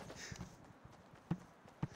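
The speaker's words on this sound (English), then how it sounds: "my Turtle Beach heard your footsteps coming at me" A Fortnite player running, heard as quick, faint footfalls with a couple of sharper thuds over a low in-game background, brief and at a distance, with no talk.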